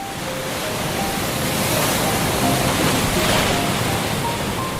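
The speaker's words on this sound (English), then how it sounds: "The strong waves crashing onto the shore seemed to invite her to play." Strong ocean waves crash steadily onto the shore, a broad continuous roar of surf that swells and recedes over a few seconds, loud and close with no voices.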